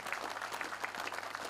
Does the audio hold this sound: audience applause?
yes